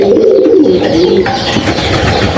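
Domestic pigeons coo in a loud, close chorus of overlapping throaty murmurs, continuous and dense with no talk.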